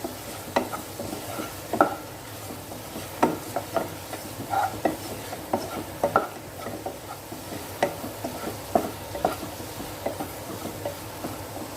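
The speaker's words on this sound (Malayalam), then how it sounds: "ഇത് തക്കാളി കയ്യിൽ കിടന്ന് നല്ലോണം വഴലട്ടെ" Tomatoes sautéing in a pan for an okra curry, with a gentle steady sizzle broken by regular scraping and clacking stirs close by, no voices.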